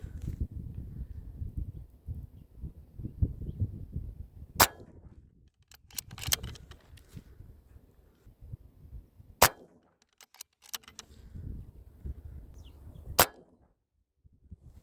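A Sumatra .22 air rifle, charged to 200 bar and firing 31-grain pellets at full power, lets off three sharp cracks spaced several seconds apart, with quieter handling clicks and low rumbling between shots.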